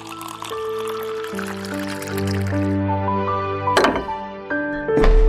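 A glass is filled with cold water, with a short pouring splash and a couple of brief liquid bursts near the end, heard over steady background music.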